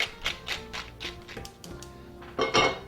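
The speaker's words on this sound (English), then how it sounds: "we'll take the flat side of our mallet and pound our chicken thighs until they're 1/2 inch thick" A flat-faced meat mallet pounds chicken thighs in a kitchen, giving a run of about ten quick, near, dull taps with a slight clink, ending in two heavier blows.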